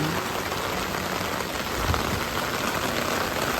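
Heavy rain pours down steadily, a thick constant roar of drops hitting surfaces, close and loud, with no one speaking.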